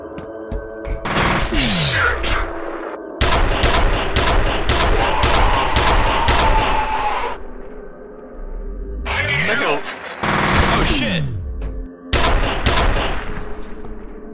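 Heavy video-game gunfire from a railgun-like weapon in F.E.A.R., loud sustained bursts of rapid shots separated by short pauses, with sweeping mechanical whines between volleys and no talking.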